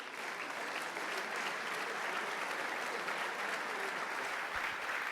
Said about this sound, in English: Give them an applause, please.